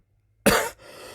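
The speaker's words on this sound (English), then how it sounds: "I got a cough" A single sharp cough close to the mic, a short harsh burst followed by quiet low room noise.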